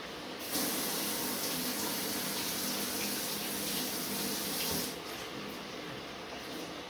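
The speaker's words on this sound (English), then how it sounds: "Immediately wash the brush with water, so you can use it next time as well" Tap water runs steadily and close into a sink while a glue brush is rinsed, a constant rushing splash for several seconds that shifts slightly near the end.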